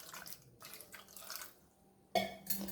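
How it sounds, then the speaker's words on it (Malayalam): Water trickles and splashes into a pressure cooker holding cut sweet potato. The pour comes in short, soft bursts with brief pauses, ending in a louder splash close to the microphone. "ഇനി ആവശ്യത്തിന് വെള്ളം ഒഴിച്ചു കൊടുക്കാം."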